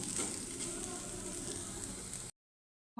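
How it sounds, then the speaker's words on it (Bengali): Momos fry in a rice cooker with a steady, close, moderate sizzle for about two seconds before cutting to silence, followed by a brief burst of sound. "তো আমি একদম এই যে দেখেন ভাজা ভাজা করে নিচ্ছি"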